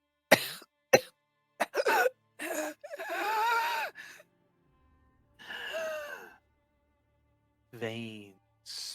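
A few abrupt coughs open, followed by long sighing, groaning breaths and a strained gasp, close and unvoiced by words.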